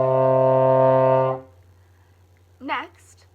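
A baritone horn holds one steady, full note with valves 1 and 2 pressed for just over a second, close and clear, followed by a brief voice after a pause.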